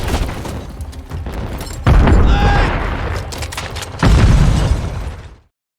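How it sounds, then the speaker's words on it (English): Gunfire and explosions rattle through a Call of Duty MW3 firefight with a KV Inhibitor sniper rifle, dense booms and bursts stacked over constant battle noise, with two louder blasts standing out. "Taking fire!"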